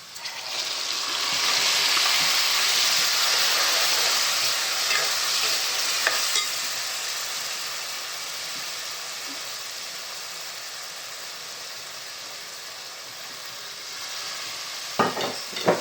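Tomatoes and masala sizzle and fry in a pan for prawn curry, a steady close hiss that peaks early and then eases, with occasional scraping stirs and a couple of sharp knocks at the end.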